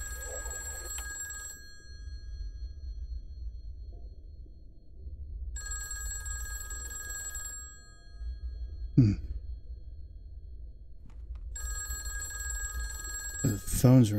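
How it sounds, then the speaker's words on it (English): An old-style telephone bell rings in three long bursts separated by pauses, loud and close, with a sigh and brief vocal sounds in between. "Somebody needs to answer this dang telephone."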